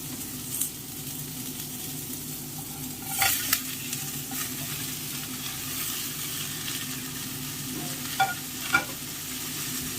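Cauliflower pieces sizzle softly in a pan as they fry, with a steady quiet hiss broken by a few scraping stirs of a spoon against the metal.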